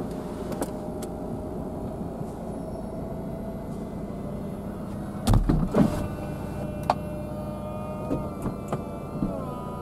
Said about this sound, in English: Roof, as you can see, all works fine. Smooth operation, no juddering.